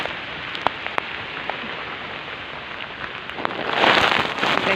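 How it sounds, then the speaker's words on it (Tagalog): Heavy rain pouring during a storm with a power outage, a dense steady hiss of drops with scattered sharper taps nearby, swelling louder near the end as a strong gust of wind-driven rain sweeps through. "grabing lakas guys ng ulan talaga naman."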